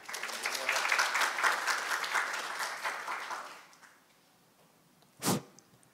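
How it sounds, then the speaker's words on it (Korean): Audience applause welcoming a company CEO to the stage at a tech conference, a full round of clapping that fades out after a few seconds, followed by a single sharp thump. "여러분 큰 박수로 환영해 주시기 바랍니다"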